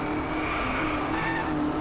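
A race car engine drones steadily in the Driveclub video game, a continuous sustained roar with a faint tire squeal blended in, alone without talk.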